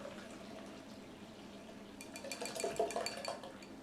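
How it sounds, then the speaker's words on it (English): Juice is poured from a pitcher through a sieve, heard as a faint trickle with light clinks of kitchenware that grow busier toward the end, close by and quiet. "carefully, without spilling, pour it through our sieve and strain our juice out"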